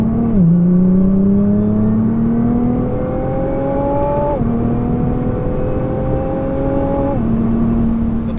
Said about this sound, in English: definitely sounds different in race mode. I think you can tell the exhaust kind of opens up